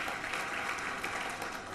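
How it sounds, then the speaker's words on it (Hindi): A brief burst of audience clapping at a Rajasthan public event, steady and moderately distant, lasting under two seconds without any voice over it. "एक बार जोरदार सुरेश जी के लिए तालियां बजाते हैं।"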